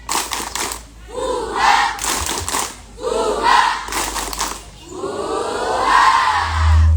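A group of children at a kids' exercise session performs a rhythmic clapping chant, with short bursts of unison clapping alternating with loud shouted chant phrases, repeating about three times.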